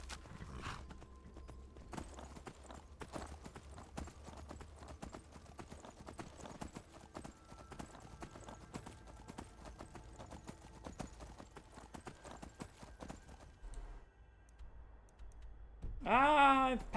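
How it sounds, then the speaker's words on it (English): A summoned horse in modded Skyrim clip-clops in a steady, rapid hoof rhythm under game ambience, ending with a loud neigh. "Summon another horse."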